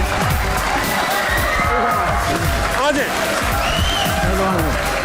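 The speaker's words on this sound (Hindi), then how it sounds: "तालियां जोर से राहत भाई।" A TV studio audience cheers and applauds loudly and without a break, with whoops and shouts mixed into the crowd noise.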